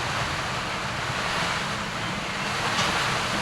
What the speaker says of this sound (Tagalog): ang lakas talaga ng hangin sa labas guys